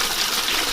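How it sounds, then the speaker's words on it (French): Flush-type water release from a garden rainwater collection point in a town garden: a brief, strong gush of pouring water, close and steady throughout, with no speech. "c'est un système pas breveté, mais c'est le système de chasse d'eau"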